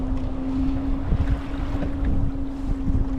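Wind buffeting the microphone in gusty rumbles over a steady low motor hum, continuous and fairly loud, with no talking, on a cold day at sea while kayak fishing.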